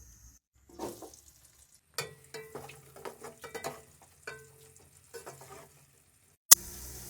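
Two onions fry and brown in oil for a chicken mandi rice dish, with sizzling bursts and stirring scrapes in an irregular rhythm, close by, ending in a sharp clank and steady hiss.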